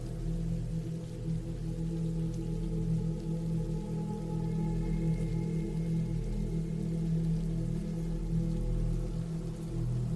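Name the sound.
rain falling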